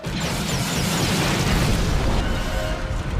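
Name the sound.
explosion in Star Wars Bad Batch scene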